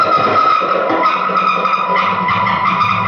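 Heavily distorted electric guitar through an HM2-clone distortion pedal set to maximum, with a thick, buzzing, saturated tone, sustained and loud throughout with no pauses.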